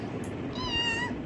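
A child imitates a cat's meow, giving a single drawn-out, rising and falling mewing cry heard close and clear over quiet room noise.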